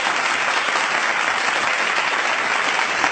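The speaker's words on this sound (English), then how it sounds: "So I just wanted to give you a round of applause for that." Steady, even applause like a crowd clapping, a continuous dense patter at moderate level with no breaks, heard during an interview.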